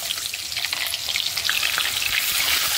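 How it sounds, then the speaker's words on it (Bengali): Diced potatoes frying in oil with cumin seeds and bay leaf give a loud, close, crackling sizzle that thickens steadily, with faint stirring underneath and no speech. "তো আলুগুলো আবার লাল করে ভেজে নেব।"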